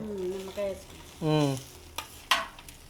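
Sizzling tempering for lemon vermicelli pulihora is stirred in a pan, soft frying hiss with a couple of sharp sizzle bursts near the end, following a brief voiced sound at the start.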